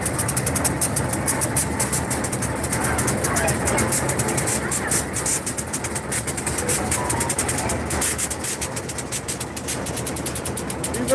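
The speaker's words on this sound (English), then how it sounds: "These are the type of locomotives I used to work on years ago." A locomotive engine idles in Silverton, Colorado, with a steady, loud diesel rumble and hiss that holds unchanged throughout, close by.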